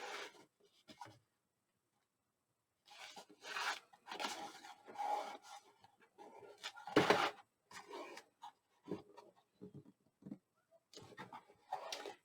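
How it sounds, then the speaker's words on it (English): A bone folder rubs firmly along a paper fold line on a handmade book box, giving repeated dry rasping strokes in short bursts, close and moderately quiet with pauses between. "Now I'm burnishing it again."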